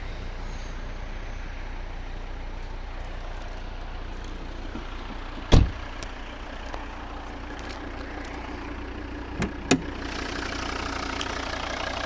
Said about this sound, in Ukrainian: Ось робота знаменитого двигуна від Volvo.